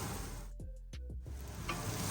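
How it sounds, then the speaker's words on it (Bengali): Egg, onion and cashew fry in a pan with a soft, steady sizzle. A few brief tonal squeaks break through in the middle, and no one talks. "ডিম পেঁয়াজ আর কাজুটাকে পাঁচ মিনিট মতো একটু ভাজা করে নেবে"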